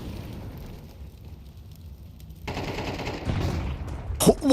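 Rapid gunfire shooting through a wall in a competitive shooter match, a burst of shots rising out of quieter game ambience and growing louder toward the end.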